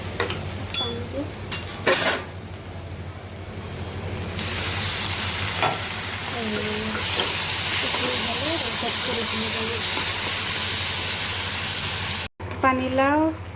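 Water poured into a hot pan of frying potato curry for puri breakfast, giving a loud sustained sizzle and steaming hiss with occasional stirring clinks, and a voice speaking briefly near the start and end.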